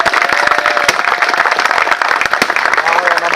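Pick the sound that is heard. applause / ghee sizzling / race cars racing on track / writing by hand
applause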